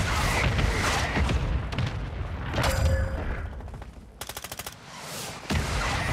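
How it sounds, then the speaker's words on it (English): Mortar strike and gunfire in Call of Duty: Modern Warfare II, with repeated loud bursts of automatic fire and heavy booming impacts, plus a rapid rattling volley near the end. "Our mortar strike is inbound"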